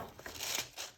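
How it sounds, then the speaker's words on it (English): Paper on the front of a Seiichi Hayashi book crinkles in a quick, close run of soft dry rustles and crackles that swell and fade over about a second. "Sorry for the crinkly noise of the paper on the front."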